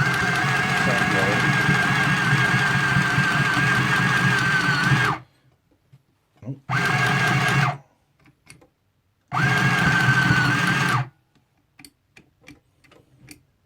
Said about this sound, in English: Let's try one more stitch quickly.